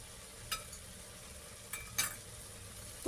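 Food fries quietly in a pan, with a soft, steady sizzle and a few brief scraping stirs.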